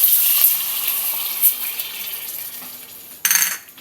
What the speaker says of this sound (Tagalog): Lagay tayo ng konting tubig muna.